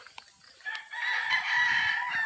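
A rooster crows clearly and close by, one drawn-out call following a few short clucks from nearby chickens, with no talking.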